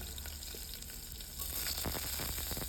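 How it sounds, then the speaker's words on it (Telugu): Cloves, cardamom and green chillies fry in a pan of hot oil for a foxtail millet vegetable biryani, giving a steady close hiss that swells louder and more crackly partway through, with no voices. "లవంగాలు యాలకులు వేసుకొని కొద్దిగా వేగనివ్వాలి"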